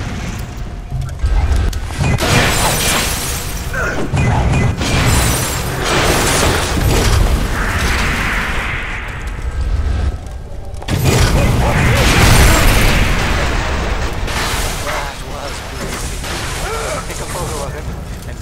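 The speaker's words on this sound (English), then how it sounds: "I might as well use the frickin' napalm launcher." A napalm launcher fires in the video game Bioshock, producing loud, continuous roaring bursts and booming blasts with mechanical creaks, while a voice talks over the game sounds.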